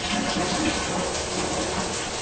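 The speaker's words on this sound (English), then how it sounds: "we'll turn some water on" Water gushes steadily from a hand-held bathtub shower head, a continuous loud hissing spray with no pauses and no talking.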